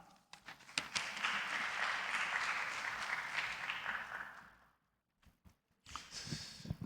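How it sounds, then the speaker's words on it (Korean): An audience in a university chapel applauds as a guest professor comes forward to give a lecture. Steady, even clapping from a crowd carries on for about four seconds, then stops abruptly, followed by a few faint bumps. "나오실 때 우리가 박수로 모시겠습니다"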